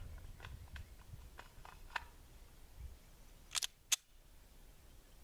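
A fresh pistol magazine seats into a handgun during a reload from a hip pack holster: faint ticks and handling noises, then two sharp, close metallic clicks in quick succession.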